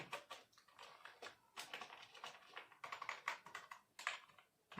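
Typing on a Zebronics ZEB WAR gaming keyboard, with a steady run of crisp, close key clicks that come in quick irregular bursts, heard alone with no talking.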